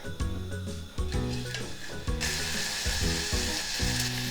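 Grated garlic and ginger fry in sesame oil in a pot for ramen, giving a loud, steady sizzle with repeated scraping stir strokes throughout.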